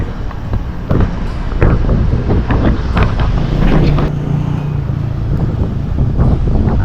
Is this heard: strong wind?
yes